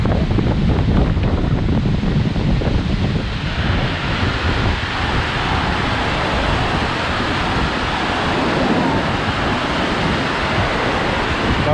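A rushing mountain stream on Kazbek in Georgia roars loudly and continuously beneath a hanging ladder, its close, heavy pour mixed with strong wind buffeting the microphone.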